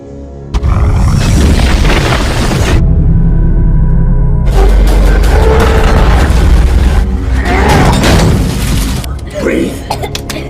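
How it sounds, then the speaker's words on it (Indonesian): An explosion in a film lands as a deep, loud boom with rolling rumble, followed by further heavy impacts, while a voice narrates over much of it. "Norman berhasil menyelamatkan Phoenix dan meledakkan anak buah Raylan hingga tewas terpanggang."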